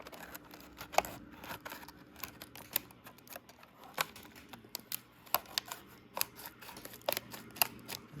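Scissors snip through packaging of an Imperial Gunner collectible figure in a run of crisp, irregular cuts heard up close, sharp clicks scattered among quieter rustling.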